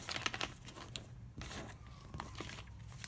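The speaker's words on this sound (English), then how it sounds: "Now I'm just going to do some simple shuffling, just like playing cards." Tarot cards being shuffled by hand, a quick papery riffle of crinkling, rustling and soft snapping strokes, close up and fairly quiet, with brief pauses between bursts and no talking.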